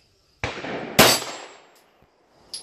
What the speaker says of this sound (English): So I'm having slide lock because of me.